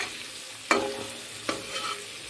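Pork frying in its own rendered fat, with no added oil, hisses softly in the pan while a utensil stirs it in two sharp scraping strokes, then a gentle clink. The sizzle stays faint and steady underneath, and nobody speaks.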